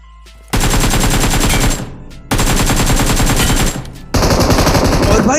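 Automatic gunfire in the mobile battle royale game BGMI rattles in long, loud, rapid bursts separated by brief pauses, with dense repeated shots filling the clip.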